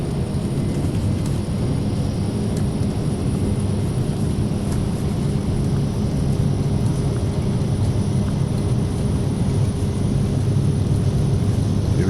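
Carenado Shorts 360 twin-turboprop in a flight simulator rolling for takeoff, a steady loud propeller and engine drone with a faint high whine, constant throughout with no talk.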